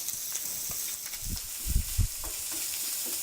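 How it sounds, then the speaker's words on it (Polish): Bacon frying in a pan, a soft, steady sizzle and hiss close by, with a few low thumps and bumps in the middle as the pan or the pieces are moved. "W momencie, kiedy boczek częściowo już nam się przysmaży"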